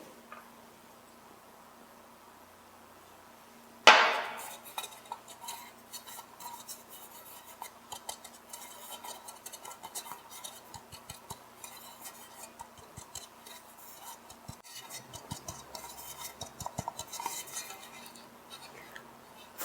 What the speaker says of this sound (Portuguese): E agora eu vou polvilhar a farinha de trigo aqui